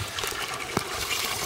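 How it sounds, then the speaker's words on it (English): Water draining from a gold concentrator centrifuge after its plug is pulled during cleanup, a steady close gushing wash with one brief sharp knock partway through. "you pull that plug and all this water drains out"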